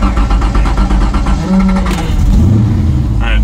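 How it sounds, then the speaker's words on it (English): A 1971 Pantera engine turns over with rhythmic cranking, then catches and settles into a loud, rumbling idle close by. "Car starts right up."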